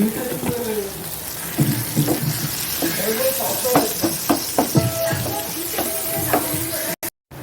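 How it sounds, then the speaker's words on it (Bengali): Onions frying red in a pan with a little sugar sizzle beneath repeated scraping and clattering from stirring, all close and fairly loud. "দেখো পেঁয়াজটা লাল করে ভাজা হয়ে গেছে"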